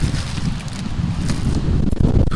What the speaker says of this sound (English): Ooh, it's windy